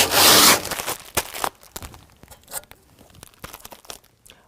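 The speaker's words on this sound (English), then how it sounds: "pull off our plastic protective film that covers our canister" Plastic protective film being peeled off a tonneau cover canister: a loud initial rip, then a series of crinkling, crackling pulls and rubs of varying strength, close by with no talking.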